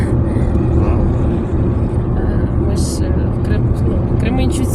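Steady low rumble of a car driving on the road, a continuous engine and road drone heard from inside the vehicle, with people talking over it throughout.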